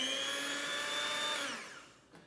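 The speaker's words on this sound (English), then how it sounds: "So a hand blender I have." A hand blender whipping dalgona coffee made from instant coffee, hot water and sugar whines steadily up close, then its pitch drops as it winds down and stops after about a second and a half.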